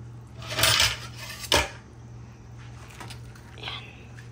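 Lid set onto a pot of batchoy with pechay in a home kitchen, giving a clattering metal clank followed by a second sharper knock, then quiet room tone with faint background sounds.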